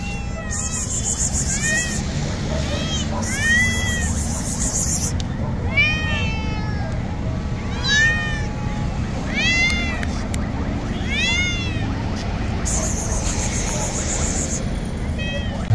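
Several cats for sale at a Baghdad street market meow repeatedly, short rising-falling cries scattered over a busy background of chatter and insect-like chirping.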